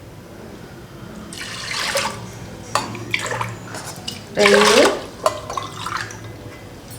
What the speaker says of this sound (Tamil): அதுக்கு வந்து இப்போ 4 டம்ளர் தண்ணி ஊற்றிருக்கேன்